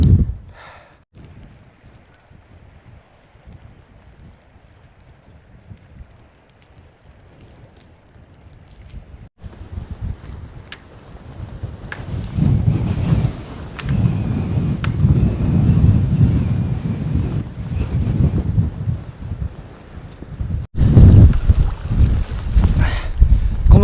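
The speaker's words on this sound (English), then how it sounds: "this wind's stronger than we predicted" Strong wind buffets an exposed mountain ridge near St Sunday Crag, a low roaring rumble that rises after a quiet start and gusts loudly against the microphone toward the end.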